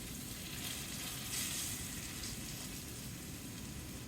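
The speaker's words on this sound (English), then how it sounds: "I'm also frying them in sesame oil" Tofu frying in sesame oil during a stir fry, giving a steady, dense sizzle that runs unbroken throughout at close range, with no talking.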